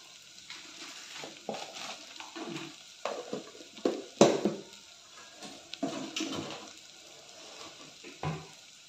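Chili powder being stirred into a pot of rasam with a spoon, giving soft, irregular scraping and liquid swishing strokes with a few sharper clinks, fairly close and moderately quiet, with no talking.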